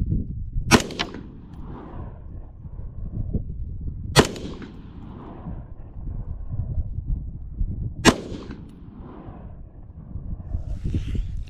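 An M4A1 rifle fitted with an H2 buffer and fed from a metal magazine fires three single shots, each a sharp loud crack with a reverberating tail, spaced roughly evenly several seconds apart outdoors.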